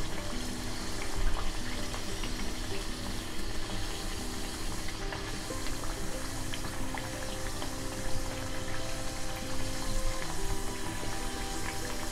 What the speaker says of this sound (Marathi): सगळे तळून घेणार आधी आणि नंतर मग ते पाकात घालणार आहे